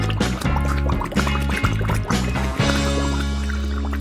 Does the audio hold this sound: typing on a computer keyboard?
no